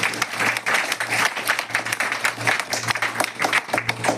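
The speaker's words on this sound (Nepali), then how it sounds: "हामी एकचोटि सबैजना मिलिकन जोडसँगले ताली बजाएर परमेश्वरलाई हामी आदर दिनेछौँ" Worshippers at a Nepali church service clap loudly together in quick, dense, continuous applause, with a low electrical hum running underneath throughout.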